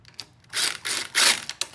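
A socket wrench ratchets in short clicking bursts while exhaust parts are mounted on a vehicle, a few quick close runs of metallic clicks separated by brief pauses.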